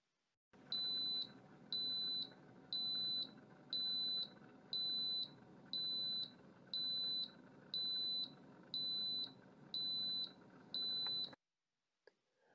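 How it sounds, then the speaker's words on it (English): Built-in beeper alarm of a Victron Cerbo GX unit sounding about eleven evenly spaced, high-pitched electronic beeps, each roughly half a second long, loud and steady, with a faint hum between them and no talk. "The Cerbo keeps a log of the notifications and it also has an inbuilt beeper which can be set up to alert you."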